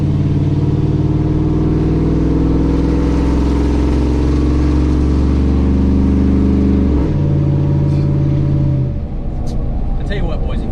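A tuned GMC Sierra pickup with the 5.3-litre V8 drones loudly and steadily while driving, its deep engine note shifting pitch around seven seconds as it changes gear or load, with a voice briefly audible over it.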